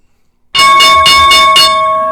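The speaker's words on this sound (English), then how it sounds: "Here's the opening bell." Stock market opening bell, a bright ringing bell struck in five quick rhythmic pulses with a sustained metallic ring that lingers after, loud and clear with no talk over it.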